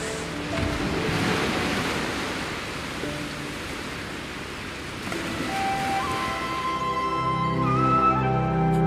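Sea waves around the Lakshadweep islands, a loud steady wash of surf and wind noise that fills the whole stretch, with a faint tonal sound rising near the end.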